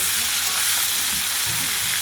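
Steady, close sizzling of roe-filled hilsa fish frying in hot oil, a continuous crackling hiss with no voices.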